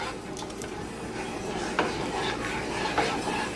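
Tomato sauce being stirred into red beans in a cooking pot, with soft repeated scraping and a few light clinks of the spoon against the pot, close up and steady.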